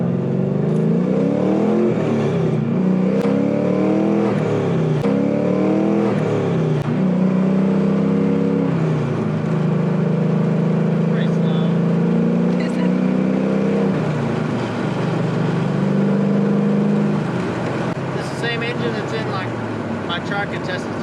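An LS-swapped Volvo 240 accelerating hard, its V8 roaring loud and close with rising, falling revs through several gear changes, a passenger voice audible over the engine.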